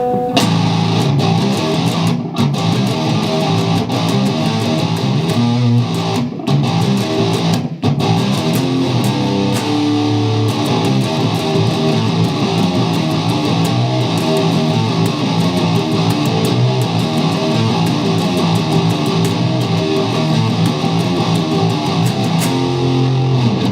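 Heavily distorted electric guitar pre-chorus riff, dense and loud with chugging palm-muted rhythm and brief dropouts early on, sustained throughout without voices.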